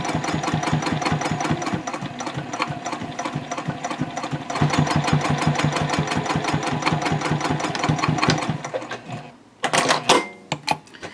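A sewing machine stitches 1/8 inch from the piping on a Swoon Betty bowler bag, running in a fast, even close-up chatter with a short pause and backstitch bursts near the end.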